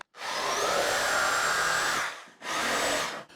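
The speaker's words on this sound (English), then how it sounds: "I have a corded Sawzall. I just have to cut this plate out." A corded Sawzall reciprocating saw cuts out a plate in two loud, close bursts, a long run of steady motor whine followed by a short pause and a second shorter burst.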